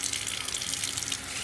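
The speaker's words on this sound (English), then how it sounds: "I just put them in the water. I rinse them around." Water running into a sink as sprouts are rinsed and swirled around, a steady close faucet hiss with soft splashing throughout.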